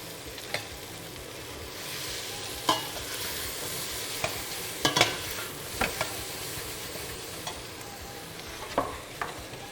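Chicken, garlic, ginger and carrots sizzle steadily in a hot pan, with a spatula stirring and occasional sharp scrapes and clinks against the pan, close and moderately quiet.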